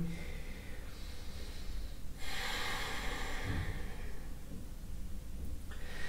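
During a beginner yoga hamstring stretch, a man draws a deep inhale through the nose, then the breath swells into a long airy exhale, close-miked over faint background hiss.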